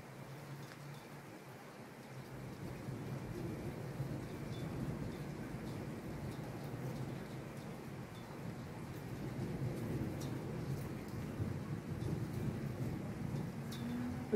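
Heavy rain pours down steadily with a deep, low thunder rumble rolling beneath it throughout, a dense continuous wash with no voices.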